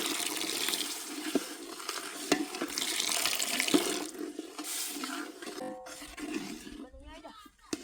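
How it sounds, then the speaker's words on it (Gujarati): Water is poured into a pan of spiced masala made with Kashmiri red chilli, coriander-cumin and garam masala while cooking village-style potatoes, producing a steady splashing, sizzling rush with a few sharp clinks and a spoken voice over it. "મસાલા બળી ના જાય એટલા માટે થોડું નાખશું પાણી."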